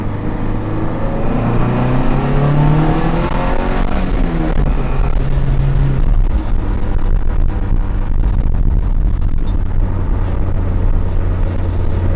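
A car with a carbon fiber hood pulls hard in second gear, its engine note climbing steadily and loud throughout, with no talking over it.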